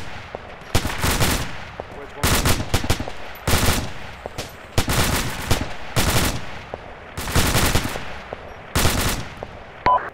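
A military section opens fire on command at targets in rocks during an exercise with artillery support. Loud bursts of automatic gunfire come in roughly seven clusters, separated by short pauses, under faint radio-style voices.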